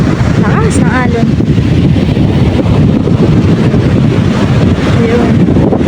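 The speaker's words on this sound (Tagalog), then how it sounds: "Napakarakas ng alon." Strong sea waves roll at a beach under heavy wind buffeting on the microphone, a loud, constant roar with people talking over it.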